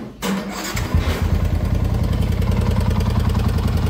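A Yamaha Sniper 150 motorcycle with a noisy tensioner cranks and catches, then settles into a steady, close, rattly idle with a rapid even beat.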